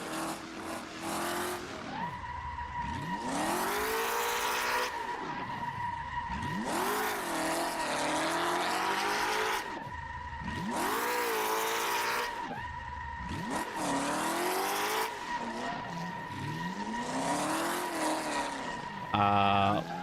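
A BMW E36 drifting in the racing game Assetto Corsa 2, engine revs rising and falling in repeated sweeps while tires squeal and skid loudly almost without pause.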